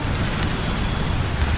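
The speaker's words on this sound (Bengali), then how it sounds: "ঝমঝম শব্দ তুলে নেমে এলো মুষলধারে বৃষ্টি" Heavy cartoon rain pours down in a loud, steady, dense hiss that holds without pause through a stormy night.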